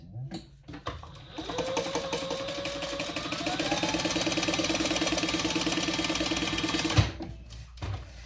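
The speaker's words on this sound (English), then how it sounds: "My top is still open, so I'm just gonna baste that closed." Sewing machine basting the open top of a sling bag closed, a steady rapid mechanical whir of stitching running for several seconds, starting and stopping with brief handling clicks, close and fairly loud.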